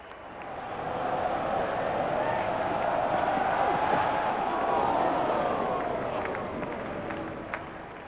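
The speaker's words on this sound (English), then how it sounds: "Crowd going mad here." A stadium crowd in the RC 20 cricket video game swells into a loud, continuous roar of cheering after a big hit, rising quickly and holding for several seconds before easing off.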